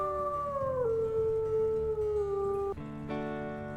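A single wolf howl in the video game Tracker's Tale, a long sustained call that holds steady and then slides down, followed by a brief higher rising note, fairly quiet and alone.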